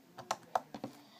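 Homemade slime with clear glue, lotion-style cream and purple dye being squeezed and stretched by hand, giving a handful of sharp, close clicking pops spaced irregularly across a quiet moment, no talking.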